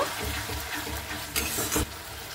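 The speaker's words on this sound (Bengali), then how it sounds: "এবার আমি মশলাটা দিয়ে দিচ্ছি, দিয়ে একটু হালকা একটু নেড়ে নেব।" Masala spice paste going into a pan with peas and being stirred, a steady frying hiss with a few louder scraping and spattering bursts near the end, close up and without voices.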